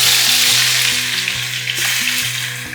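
Garlic sizzles loudly in a hot pan as the base for a fish curry, a steady close-up crackle and hiss lasting throughout with no voices.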